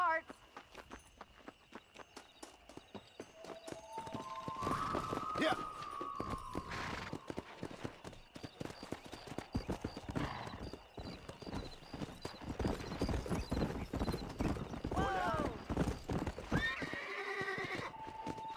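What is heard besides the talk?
horse galloping hooves in Red Dead Redemption video game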